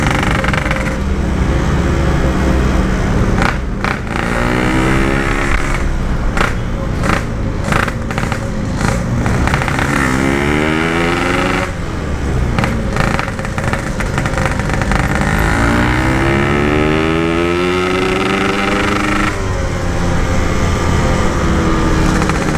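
A Yamaha RX King two-stroke motorcycle runs loud and close, its raspy engine repeatedly revving up and dropping back in rising sweeps over a constant buzzing drone.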